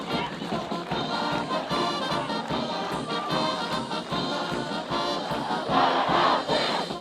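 A capacity crowd at a college field hockey game with North Carolina Tar Heels fans roars and chants, a dense loud swell of voices that builds toward the end.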